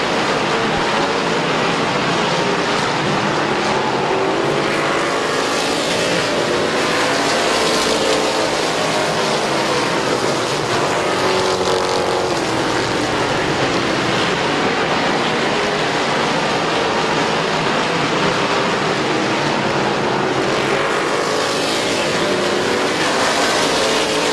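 Race cars circling Midvale Speedway, a continuous loud engine roar with rising and falling passes as cars sweep by, heard from trackside without a break.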